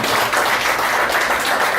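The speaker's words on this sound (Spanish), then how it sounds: "Démosle un buen aplauso al Señor" Brief burst of applause from a church congregation during a Spanish-language service, dense and fairly loud, with a few voices mixed in.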